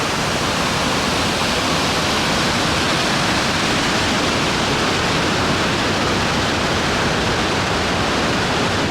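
Salmon Falls waterfall pours as a loud, steady, close roar of rushing water, a dense unbroken wash of sound with no voices.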